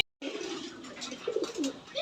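Racing pigeons in a pigeon loft on a farm in Ghatail, Tangail, giving soft, throaty coos in overlapping bursts against a steady rustling background, close and moderately loud.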